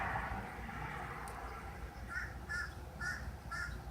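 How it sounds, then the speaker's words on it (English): A crow caws outside, four hoarse calls at a steady pace in the second half, distant and fairly faint over low background noise. "Hear the bird? I hear the bird."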